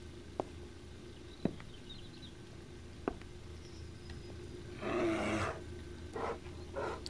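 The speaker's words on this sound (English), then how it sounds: "That bear sounds very upset." A bear roaring in the survival game 7 Days to Die, a rough, growling roar rising near the end after several faint clicks and taps over quiet ambience.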